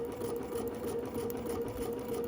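Sewing machine running steadily while stitching repetitive quilt block pieces, a continuous even mechanical whir with a faint rapid needle rhythm, close and alone without talk.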